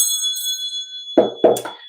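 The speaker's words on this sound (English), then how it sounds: "let's call in spirit with a little bit of wind chime time" Wind chimes ring with bright, sustained metallic tones that slowly fade, followed by two soft wooden knocks close by near the end.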